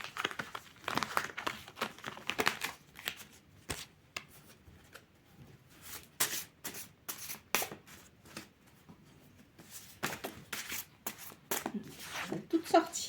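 Tarot cards are shuffled and drawn with soft, crisp riffles, slaps and crinkling sounds close by, while someone speaks French at intervals.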